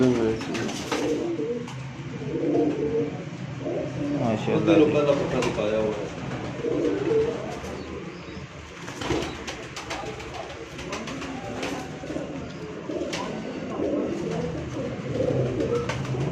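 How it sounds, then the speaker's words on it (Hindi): Flying pigeons kept on a rooftop coo in low, repeated phrases close by, while someone speaks over them at moments and the birds continue underneath. "परवाजी कबूतर है जनाब"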